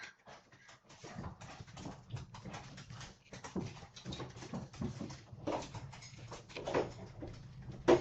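A dog just brought home by its owner whimpers and snuffles in quick, uneven bursts with light scrabbling, close but faint in a quiet indoor room.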